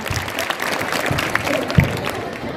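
Dense crowd applause at a school annual function fills the clip, a steady wash of many hands clapping at moderate volume with no clear pauses.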